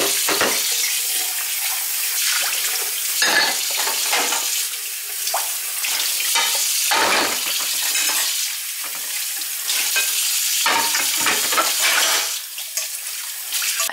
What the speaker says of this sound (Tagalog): Ang kailangan kong gawin ngayon ay maghugas ng plato